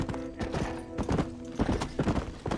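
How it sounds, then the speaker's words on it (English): Horses' hooves clip-clop in a steady, uneven rhythm in the Western video game Red Dead Redemption, the hoofbeats close and clear over a low sustained hum. "Look at these here horses."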